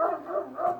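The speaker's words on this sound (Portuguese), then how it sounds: "os cachorros estão latindo" Dogs barking somewhere near, a quick run of tonal, slightly whiny barks at moderate volume with no talk over them.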